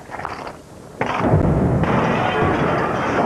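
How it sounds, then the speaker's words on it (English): Gunfire from gunmen shooting at US Marines in a built-up residential area of Iraq, with snipers on rooftops; loud, dense bursts of shots and booms sound close and continuous after a brief quieter start. "The gunmen have been firing at us all day"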